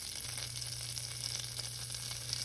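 Diced onions, two small ones, hitting melted butter in a Dutch oven give a steady, soft sizzle with a low hum underneath, continuous and fairly quiet throughout.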